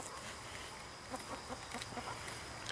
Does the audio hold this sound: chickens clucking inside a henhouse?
yes